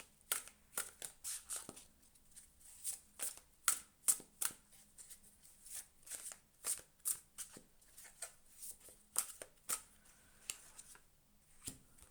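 Tarot cards are shuffled by hand in a steady run of soft, papery riffles and slaps, with quick bursts of close card noise and no talking.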